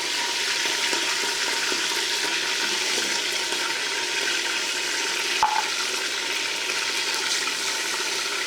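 Meat goes into onions frying in a pressure cooker for nihari, producing a loud, steady sizzle and hiss with a faint metallic tap midway, close and continuous without any voices.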